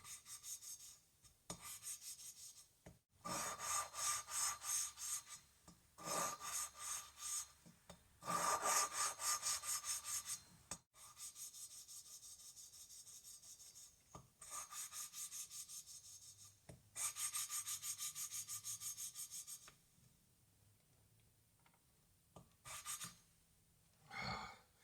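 Valve lapping on a Kohler Command CH16S engine head, working the valve against its seat first with coarse then fine compound: repeated bursts of gritty rubbing and rasping, close and moderately loud, separated by short pauses, with no talk.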